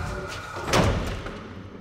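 Someone forcing a stuck old door with no lock, producing a heavy thump with a rattle partway through over a steady noisy background, close by.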